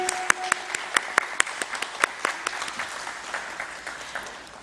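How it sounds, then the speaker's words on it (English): Audience applause at a book launch in a convention hall, a round of clapping with distinct sharp claps early on that thin out and fade over a few seconds. "Big round of applause."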